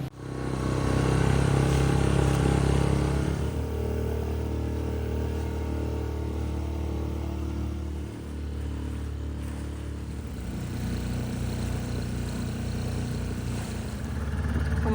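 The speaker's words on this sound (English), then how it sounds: "bringing us by dinghy to the shore" A motorized dinghy carries passengers toward shore, its outboard motor droning loud and steady at first, then settling lower with rumbling, water-slapping variation throughout and no voices.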